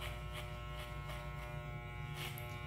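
Electric hair clippers buzz steadily close up while cutting a mohawk, a constant hum with a few brief louder passes as the blades move through hair.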